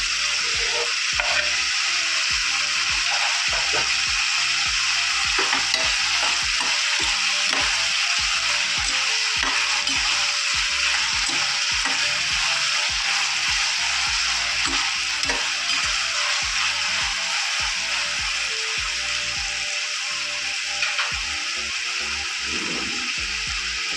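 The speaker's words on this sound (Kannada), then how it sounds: "ಒಂದು 2 ನಿಮಿಷ ಆಗಲಿ, ಎಣ್ಣೆ ಒಳಗೆ ಫ್ರೈ ಆಗಲಿ." Tomato frying in oil in a pan for vegetable upma (chow chow bath), a steady close sizzle with frequent stirring scrapes throughout, no voices.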